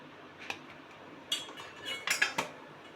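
A metal spoon stirs mustard oil and fried pointed gourd together in a pan, making a few close, irregular clinks and scrapes against the metal, with soft rattling in between.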